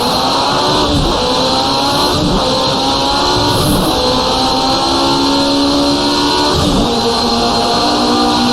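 Engine of a 1985 CART Indy race car in a racing simulation, a loud, continuous high-pitched turbocharged drone at full throttle, steady with slight pitch wavers.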